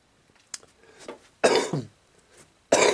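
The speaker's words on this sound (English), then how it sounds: "Sorry for the cough, guys." Two harsh coughs from a man getting over a cold burst out, a short one first and then a second after a pause, with faint throat sounds and clicks before them.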